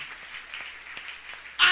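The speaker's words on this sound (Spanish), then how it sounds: "Dele ese aplauso al Señor, hermano" Applause fills a church service, a soft, continuous patter of many hands clapping at a moderate distance, swelling into a louder burst at the very end.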